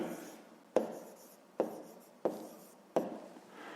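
A pen writes by hand on paper during a fifth-grade math exercise, making four distinct taps spaced under a second apart, each followed by a short scratchy stroke, close and quiet with no talking.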